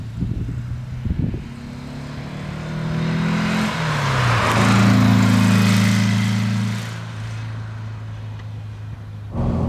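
A 1964 Porsche 356 SC Cabriolet's flat-four engine drones while driving, rising in pitch through a gear as it accelerates, then settling into a steady cruise; no talk.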